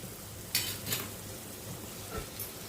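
Onion and masala fry in oil for a Malvani-style elephant yam dish, giving a quiet, steady sizzle while a spoon stirs and scrapes against the pan in a few brief strokes.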